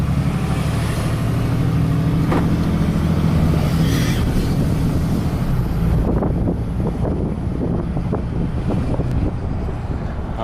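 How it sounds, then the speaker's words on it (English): Loud, blustery wind roars through open windows of a truck with a 19-horsepower-upgraded Cummins diesel over a rumbling engine, buffeting steadily throughout. "It's gonna be too windy with these windows down here."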